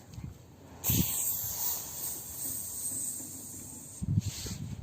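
A person imitates a snake with one long, steady hiss lasting about three seconds, breathy and close, with faint shuffling sounds before and after.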